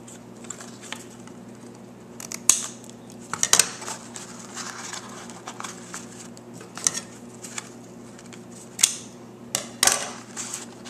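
Small scissors trim ribbon on a papercraft notecard box, giving scattered light metallic snips and clicks, close and quiet, over a faint steady background hum.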